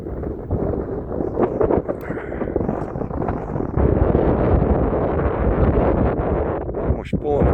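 Strong gusts roar and buffet across an exposed, snowy winter mountain ridge, a loud continuous rushing with wind blasts hitting the microphone.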